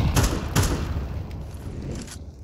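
Grenade thrown at heaven in Counter-Strike 2: a couple of close, sharp thuds and bangs early on, followed by a dull rumbling tail with faint clicks in the background.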